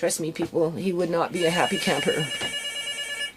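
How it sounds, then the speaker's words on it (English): A regular plug-in landline telephone rings with a steady electronic trill that starts partway through and carries on under someone talking loudly nearby. "that was the phone. You could hear it was just a regular plug-in phone."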